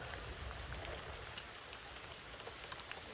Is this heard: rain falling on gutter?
yes